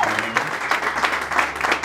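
A church audience at a praise and worship gathering in Dubai applauds to welcome Papa Serge, steady dense clapping that swells in waves over a couple of seconds, with a voice faintly present beneath.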